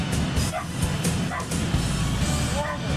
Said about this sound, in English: Apologies about the dog barking.